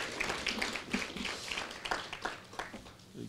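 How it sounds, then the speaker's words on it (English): Applause at a public service compliance and HR convention: a modest crowd claps with uneven, scattered hand claps, moderately close and fading toward the end, with no speech. "Another round of applause, colleagues."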